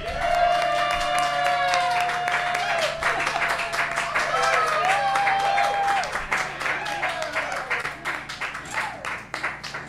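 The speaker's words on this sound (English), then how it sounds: "Make some noise for your host, Billups Allen." A live bar audience at a game show in the Lamplighter, Midtown Memphis, claps and cheers for the host, with steady applause, high whoops and whistles, and the clapping thinning toward the end.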